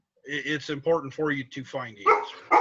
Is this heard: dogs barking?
yes